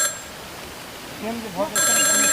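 A phone ringtone starts near the end, a bright repeating electronic ring cutting in loudly after a moment of muffled voices.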